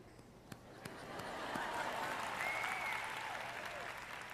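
A congregation at a church service applauds in a steady, diffuse wash of clapping that swells and holds, heard from a slight distance, with faint voices and cheers mixed in.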